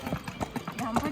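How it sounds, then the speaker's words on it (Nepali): A horse pulling a cart carrying seven people in Sauraha, Chitwan, its hooves clip-clopping in a quick, uneven rhythm close by, with people talking over the steps. "एउटा घोडाले 7 जना पुग्नु परेको छ।"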